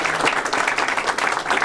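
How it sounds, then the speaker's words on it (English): Applause from attendees at an anti-corruption press conference held in a school space, a brief, dense round of many people clapping at close range. "how about a round of applause for our teachers for letting us use their space today"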